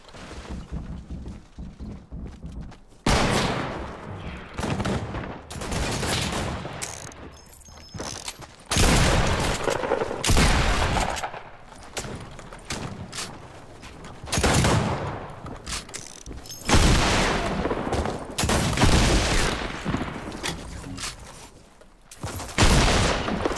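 Fortnite gunfire in rapid, loud bursts of shots, with brief pauses between volleys and repeated heavy blasts running almost without a break.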